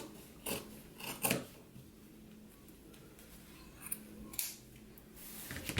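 Scissors trim the fabric of a jacket facing with several quiet snips. Two close together come early and a few more follow later, all faint over a soft, hushed background.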